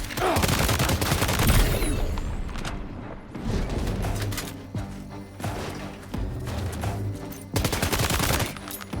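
Rapid bursts of enemy gunfire in the video game Death Stranding 2, with loud volleys and crashing impacts repeating through the stretch, under occasional talk.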